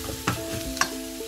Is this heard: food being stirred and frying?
yes